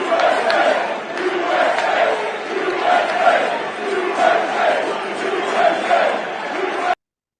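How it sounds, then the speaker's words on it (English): Crowd at Yankee Stadium in the Bronx reacting to the president at a Yankees game, a sustained roar of massed voices rising and falling with rhythmic chanting, heard from a distance. "listen to how the crowd reacted."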